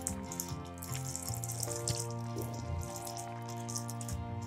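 Tamarind water being poured into a pot of boiling sambar while cooking, a soft continuous liquid pour and bubbling that holds steady throughout, fairly quiet and close, with no talking.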